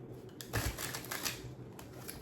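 A deck of oracle cards being shuffled by hand, soft quick riffling and slapping bursts close by at a faint level, with no talking.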